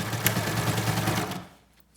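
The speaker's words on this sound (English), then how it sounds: "I'm sewing right over my pins" A sewing machine runs a quick line of stitches through fabric and straight over pins, giving a steady rapid mechanical chatter that is fairly close and loud before it stops abruptly.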